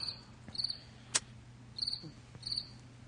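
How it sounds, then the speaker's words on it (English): Crickets played as a sound effect chirp in short repeated high trills, about four bursts spaced evenly, with a sharp click in between over a quiet hum. "More crickets, huh?"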